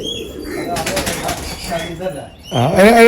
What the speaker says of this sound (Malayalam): ഇതാണ്ട പ്രാവ് വരുന്നേ